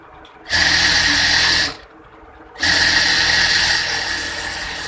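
Two bursts of a sewing machine stitching an elastic-waist salwar pant, a close, loud whirring run of about a second, a short pause, then a longer continuous run that gradually softens.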